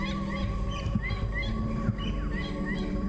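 Jungle ambience full of birds, with repeated honking, goose-like fowl calls and scattered chirps over a steady low background, moderately faint and continuous.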